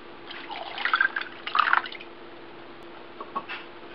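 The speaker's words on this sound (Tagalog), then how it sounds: "So, dadagdagan natin siya ng water." Water is poured into a pan of sliced beef tapa, making a few splashy bursts of pouring and bubbling up close, followed by quieter drips and trickles.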